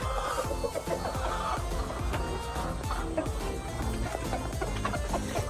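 RTL chickens cluck in a farm setting, with repeated short clucks and calls coming close together and overlapping, plus some background bustle.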